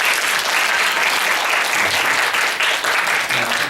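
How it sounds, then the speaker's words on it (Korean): Audience at a keyword talk concert applauding, a dense, steady wash of many hands clapping that stays loud and even throughout, with no speech over it. "박수 한번 쳐드릴까요?"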